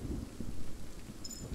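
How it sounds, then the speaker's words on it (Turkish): Steady rain falls in the video game Kingdom Two Crowns, a dense, even hiss with low rumbling texture that carries on unbroken, with a brief higher tone near the end. "yağmur yağıyor"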